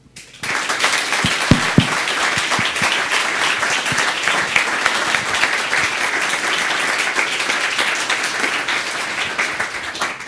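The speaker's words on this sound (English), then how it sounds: "I'd like you to applaud each and every one of you for making it possible." At a second birthday celebration for IDEALondon, a large crowd bursts into loud, sustained applause that starts abruptly and stays dense and even, with a few close claps standing out early.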